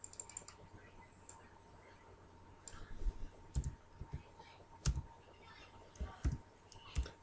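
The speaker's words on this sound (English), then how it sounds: "So type the text here." Text is typed on a computer keyboard in irregular bursts of close clicking keystrokes over a faint steady background hum, with no talk.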